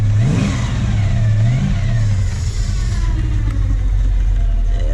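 A cammed 350 V8 revs loud and close after a cold start, its lumpy rumble rising and falling in a couple of throttle blips before settling back toward a rough idle.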